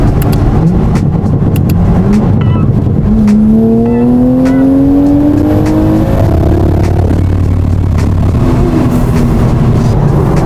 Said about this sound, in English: I never get tired of that engine sound. The B58 sounds so good.